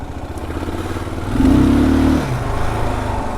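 A 2022 Kawasaki KLR650 motorcycle idles and putters as it rides slowly and turns in a small circle, its engine note briefly rising into a louder, steadier drone before settling back to a low rumble.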